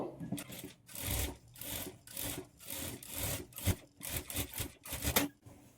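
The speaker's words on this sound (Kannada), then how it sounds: "ಈಗ ಇದನ್ನು ಓಪನ್ ಮಾಡಿ ಮೇಲೆ ಒಂದು ಟಾಪ್ ಸ್ಟಿಚ್ ಹಾಕ್ಕೊಳ್ಬೇಕು" Sewing machine top-stitching a blouse, running in repeated bursts of fast mechanical whirring separated by brief pauses, close and fairly loud.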